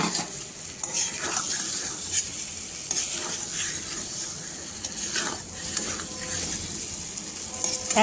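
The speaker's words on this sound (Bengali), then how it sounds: "এবার ডিমগুলো দিয়ে মশলার সঙ্গে ভালোভাবে মিশিয়ে নেব।" Eggs are stirred into sizzling spice paste in a pan for an egg and brinjal curry, a steady close fry hiss with repeated scraping strokes of a spatula throughout.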